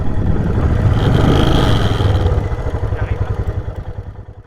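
A motorcycle engine rumbles nearby in open country by Son Kul lake at about 3000 m altitude, a loud low drone that settles into a pulsing, gradually softening throb.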